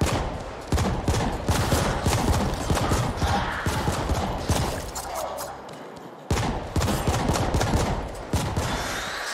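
Rapid gunfire from hip firing in the video game The Ascent, dense continuous bursts of shots with mechanical clatter, briefly dropping off before resuming, with a voice talking over the action.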